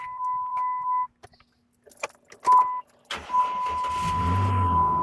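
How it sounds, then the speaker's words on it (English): Pickup truck engine cranking and catching after a portable lithium jump starter is connected, preceded by key jingles and dashboard chimes, then settling into a steady near idle. "So let's try to start the truck."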